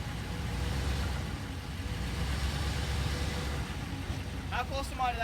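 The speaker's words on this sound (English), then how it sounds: "It sounds like a diesel." A four-wheel diesel tractor idles with a steady low rumble that holds throughout, while people talk over it.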